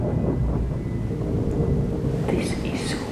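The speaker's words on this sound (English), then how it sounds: "There's thunder." Thunder rumbles low and steady through a stormy night inside a dark, reportedly haunted building, a continuous heavy roll with faint rain noise and a brief higher crackle near the end.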